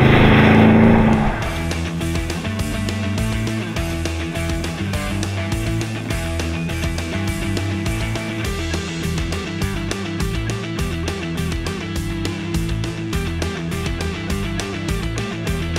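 A Toyota Tundra pickup's 5.7-litre V8 rumbles loudly and continuously under acceleration, a deep, steady engine drone that rises and holds with no talking over it.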